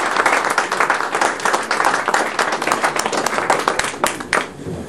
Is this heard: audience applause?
yes